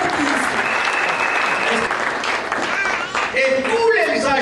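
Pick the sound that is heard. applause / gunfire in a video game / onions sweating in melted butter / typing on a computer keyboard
applause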